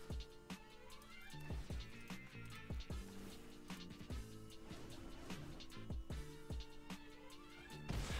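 A cat meows repeatedly at close range, several distinct mews scattered over a quiet background with soft rustling, no talking.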